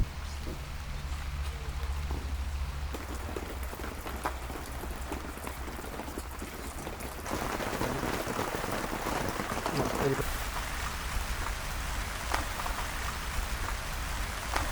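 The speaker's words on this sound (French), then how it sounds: "Ah oui, beaucoup de pluie, hein." Heavy rain falls in a continuous broadband hiss and patter that swells louder partway through, with someone speaking intermittently over it.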